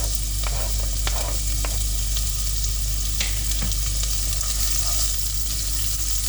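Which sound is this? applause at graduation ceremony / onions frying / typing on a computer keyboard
onions frying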